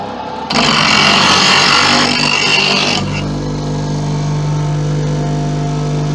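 A woodturning gouge pressed against a bench grinder, giving a loud, close, harsh grinding hiss for a few seconds, then dropping back to the steady hum of the spinning wheel.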